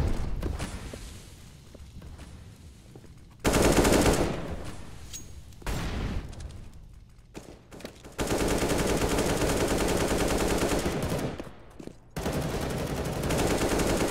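Rapid gunfire from a professional Counter-Strike match on the Mirage map, including AWP sniper rifle shots, sounds as loud dense bursts and volleys with short gaps, with no talk over it.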